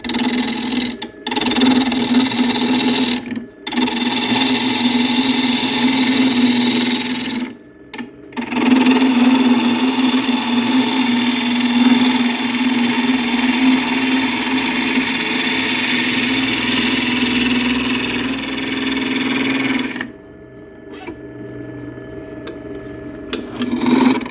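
A wood lathe's steady motor drone at about 1300 rpm with a constant hum runs nearly throughout, broken by a few brief dropouts, with a half-inch spindle gouge scraping a silky oak bowl layered in.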